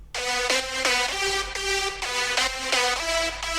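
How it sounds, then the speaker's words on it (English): Bright EDM synth lead called Nordic Sky, layered with a detuned copy, plays a short rhythmic melodic phrase of repeated plucky notes, clear and upfront with no voices. "the main lead of first track is called Nordic Sky, and it sounds like this."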